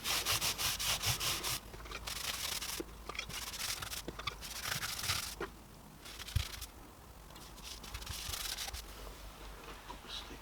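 Danish oil being rubbed by hand onto a wooden plaque, a steady close scuffing and wiping of cloth over wood in repeated strokes, with a few brief pauses and one sharp knock partway through.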